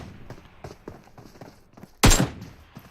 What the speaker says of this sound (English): And return nade comes in. Takes Scry down a half HP.